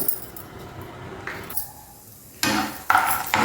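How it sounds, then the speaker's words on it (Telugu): A cup of peanuts tipped into a kadai with a spoonful of oil on a lit stove, giving bright rattling, clattering bursts near the end after softer scraping and handling noises, close and fairly loud with no speech. "అందులో ఒక కప్పు పల్లీలు వేసుకుందాం"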